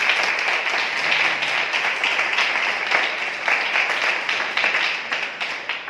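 Steady audience clapping at a spiritual passion assembly, welcoming people joining online; a sustained, even patter of many hands at moderate distance, tapering slightly at the end.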